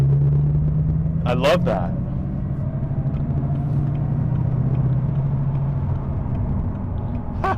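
A 2021 Bugatti Chiron Sport engine hums at low RPM in freeway traffic, a steady loud drone heard from inside the car, while a voice speaks briefly over it.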